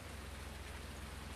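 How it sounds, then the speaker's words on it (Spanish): Steady rain hiss falls throughout a Farming Simulator 19 scene, broadband and continuous, with a low rumble underneath and no voices. "va a ser todo el capítulo con lluvia de fondo"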